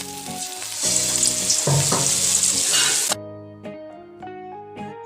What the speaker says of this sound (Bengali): এবার ওই তেলের মধ্যেই ব্যাটারে ডুবোনো পুরে ভরা পটল দিলাম।